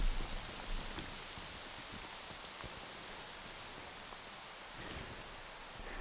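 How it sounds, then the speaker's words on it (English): A heavy winter downpour hisses steadily outdoors in snowy woods, a dense, even rush of rain with occasional closer drops and rustles. "Well, we just had a fair downpour"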